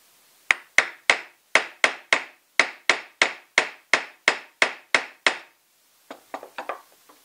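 Hammer blows drive a center support bearing onto the driveshaft of a 2001 Kia Sportage, about a dozen sharp, evenly spaced metallic strikes close up, followed by a short cluster of lighter, quicker taps.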